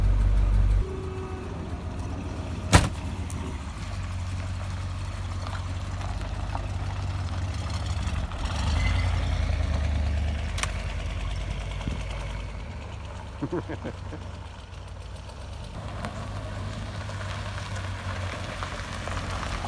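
A vehicle engine runs through a test drive after shop repairs, a steady low drone inside the cab with a few sharp knocks and clunks along the way.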